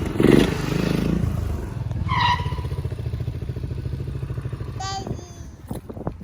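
A motorcycle with 2,000 miles, freshly carburetor-cleaned and fitted with a new battery after sitting a long time, idles with a steady low engine rumble, close by, with brief voices and clatter over it.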